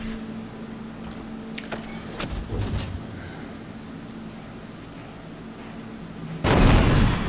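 Tank gun in the Halo Infinite campaign fires, a heavy blast near the end following scattered sharp combat impacts over a steady low engine drone.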